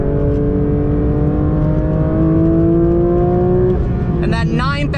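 A loud Porsche 911 GT3 engine revs steadily higher in pitch toward its 9,000 RPM redline, then shifts abruptly with a rough, buzzing burst at the top.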